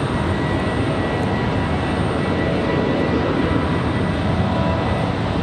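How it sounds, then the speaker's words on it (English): An American Airlines Boeing 737 MAX 8 arriving at Raleigh-Durham airport produces a loud, steady jet engine roar, broad and rumbling, continuous throughout with no voices. "this one coming in, American Airlines 2400 on a MAX 8 737 from Dallas, Fort Worth"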